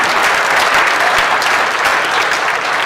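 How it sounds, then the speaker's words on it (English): A crowd at a charity dog auction breaks into loud, dense, sustained applause, many hands clapping at once in a steady wash with no clear individual claps. "give them a nice round of applause"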